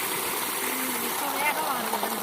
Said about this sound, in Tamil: வெயில் ஏற ஏற ஃப்ரெண்ட்ஸ் வெயில் ஏற ஏற சூப்பராக தண்ணி வருது பாருங்கள்